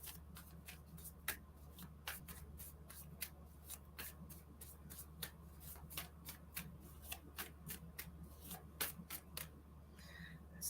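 Tarot cards shuffled for a reading, a run of quick, crisp riffling flutters repeating closely and evenly throughout, fairly quiet and close, with no talk.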